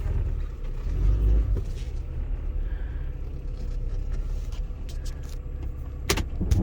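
Honda Element engine idling cold after sitting parked for two days, a steady low rumble with a few light rattles and clicks, no talking.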